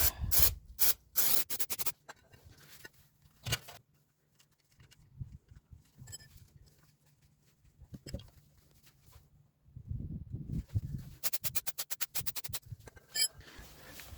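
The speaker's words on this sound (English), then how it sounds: "I'll clean the back with a bit of brake cleaner" Brake cleaner goes onto the back of a BMW F11 rear brake disc: sharp hissing spray bursts at the start, rubbing and scraping in the middle, then a rapid run of repeated spray bursts near the end.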